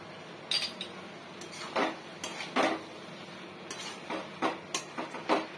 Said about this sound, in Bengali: গরম মশলা দিয়ে একটু এভাবে নেড়ে নিতে হবে।